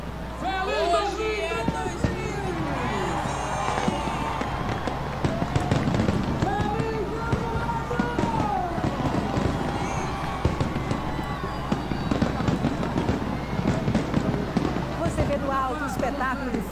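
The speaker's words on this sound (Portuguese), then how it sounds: "Espetáculo de fogos nas praias de Boa Viagem e do Pina, no Recife." New Year fireworks over Boa Viagem and Pina beaches in Recife crackle and pop densely and continuously, with sharp bangs on top of a loud crowd whose voices and cheers run throughout.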